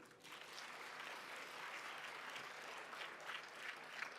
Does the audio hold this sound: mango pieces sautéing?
no